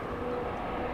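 Embraer E175 jet at LAX, a steady broadband engine roar at moderate distance, constant and unbroken through the short stretch.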